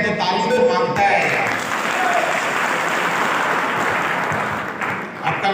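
An audience at a wellness product seminar in Palamu breaks into steady, fairly close applause lasting several seconds, with someone speaking over the clapping at the start and the sound thinning near the end.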